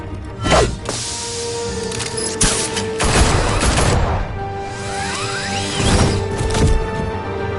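Gunfire bursts in a Batman Telltale Series action scene, loud rapid volleys of shots mixed with booms, crashes and whooshing impacts that come in waves over several seconds.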